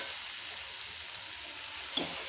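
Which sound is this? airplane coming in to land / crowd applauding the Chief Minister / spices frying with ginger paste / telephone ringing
spices frying with ginger paste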